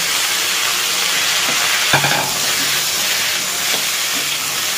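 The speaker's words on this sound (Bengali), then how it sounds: "বন্ধুরা, কপিটা ভাজা ভাজা হয়ে এসছে, এবার আলুটাও ওর সঙ্গে ভেজে নিচ্ছি।" Cauliflower and potato pieces sizzle together in a pan for a vegetarian curry, a steady close frying hiss with a few clinks of stirring partway through.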